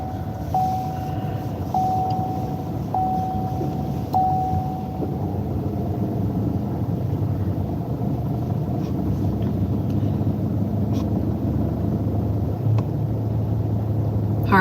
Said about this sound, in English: I guess I can start the car